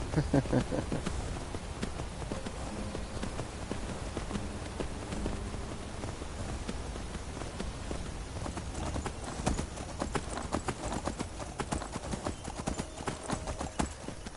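Steady clip-clop of galloping horse hooves in Skyrim VR runs throughout, a fast continuous rhythm layered over dense game sound effects.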